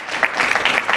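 Brief burst of audience applause greeting a keynote speaker at a business event, dense and steady clapping from a nearby crowd.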